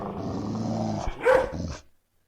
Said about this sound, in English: The pack was growling and fighting each other over the alligator parts as the train quietly moved away